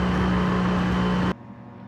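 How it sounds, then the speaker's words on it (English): A Polaris Ultra engine idling far too high, a loud steady drone with a strong sustained hum that cuts off abruptly near the end, leaving quieter background. "So it's safe to say this thing's definitely idling way too high"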